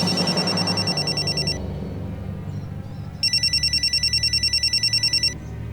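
A telephone rings indoors in two bursts of rapid electronic trilling, loud and close, with a pause between them.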